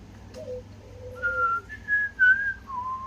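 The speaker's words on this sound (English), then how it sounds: "What's that called? Whistle." A person whistles a short melodic phrase of several clear notes rising and falling, close by, over faint background hum.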